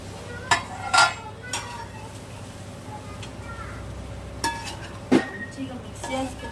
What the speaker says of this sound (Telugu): మంచిగా మిక్స్ చేసుకుందాం.